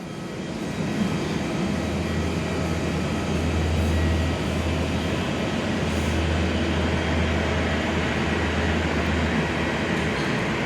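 A Qantas A321 XLR airliner arriving at Perth airport, heard from an indoor viewing platform as a loud, steady jet rumble with a low droning hum that holds throughout.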